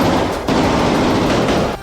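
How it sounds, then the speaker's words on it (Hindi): Heavy gunfire as Israeli soldiers storm a Hamas tunnel, with dense, loud bursts of shots packed into a rapid sustained volley with brief gaps, and no talking. "इजराइल के सैनिक गोलियां चलाते हुए अंदर घुसे"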